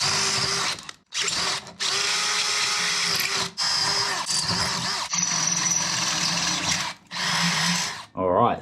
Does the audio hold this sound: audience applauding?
no